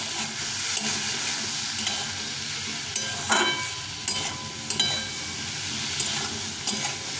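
Potato and tomato curry frying with a little turmeric in a pan gives a steady close sizzle, broken by irregular scraping stirs, with no talking.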